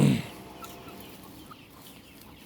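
Chickens and roosters clucking nearby in an enclosed coop, with one louder cluck at the start and softer scattered clucks after it over a steady outdoor hum.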